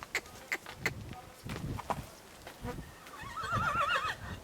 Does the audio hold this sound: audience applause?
no